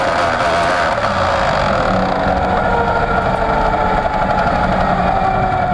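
A loud, rough race car engine running on five cylinders drones steadily with an uneven, misfiring rumble at Zandvoort circuit, no voices present.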